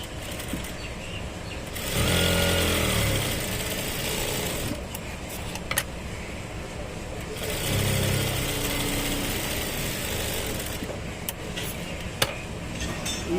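A sewing machine stitches fabric pieces for a tailoring job, running in two sustained bursts of rapid mechanical whirring with brief pauses and small clicks between them.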